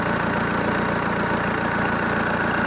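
A ZMZ 514 diesel engine runs steadily at idle with a turbo leaking at a weld seam, giving a continuous, close, even mechanical drone with a faint rapid ticking and a broad hiss throughout.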